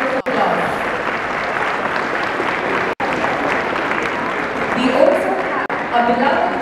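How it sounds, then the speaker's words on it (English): An audience at a school kindergarten annual concert claps steadily in dense, sustained applause, loud and close, filling the hall for several seconds. "I kindly request everyone to rise and welcome our dear with a huge round of applause."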